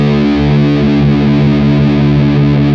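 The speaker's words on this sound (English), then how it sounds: "I'm using the distortion to heighten that sound so you can hear it more" An electric guitar run through heavy distortion while being retuned from standard E to Drop D: a loud, sustained, buzzing chord drone with a faint wavering beat between strings, heard alone.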